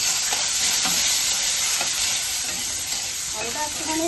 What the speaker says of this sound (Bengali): এই তেলে আমি আলুটা দিয়ে দেবো